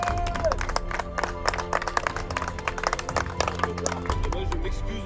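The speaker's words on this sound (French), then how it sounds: "On va applaudir un peu" Scattered clapping and some cheering from people at an amateur golf tournament gathering, with sharp uneven claps and a few voices mixed in.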